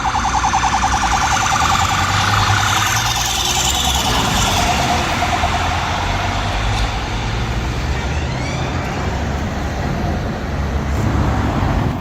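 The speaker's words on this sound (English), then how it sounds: "I hear sirens. Where's that coming from?" Police and ambulance sirens wail continuously somewhere up the street in the UK, their rising and falling tones loud over heavy traffic rumble, with no talk in between.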